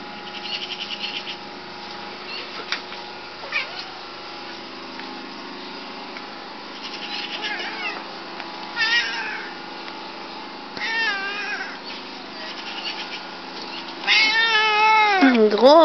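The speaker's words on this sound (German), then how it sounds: "Schöner Kater, hast du einen Namen?" A sleek black tomcat meows several times close by, scattered short and longer wavering calls across a steady background, the final ones loudest and most insistent; no voices join in.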